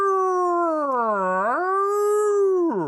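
A human voice imitates a modern police car siren with a single sustained wailing tone that sinks, swoops back up, holds, then drops sharply, heard alone and fairly loud.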